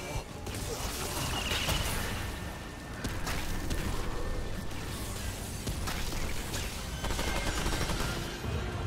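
Sustained machine gun fire in the video game Remnant 2, a dense continuous rattle of rapid shots mixed with impacts and crashes, loud and close throughout, with a voice speaking over the din.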